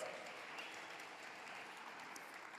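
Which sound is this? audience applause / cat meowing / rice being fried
audience applause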